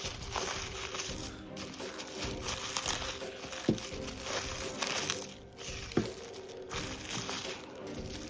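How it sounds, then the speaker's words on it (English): Plastic packaging of a 1:35 scale model kit being unwrapped close up: continuous crinkling and rustling with a couple of small sharp clicks, fairly quiet, no talk. "Here we got the tape off, so let's unwrap this."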